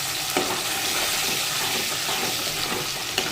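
Curry leaves and onion sizzling in hot oil, a loud, continuous hiss and crackle of frying with a couple of sharper spits and pops.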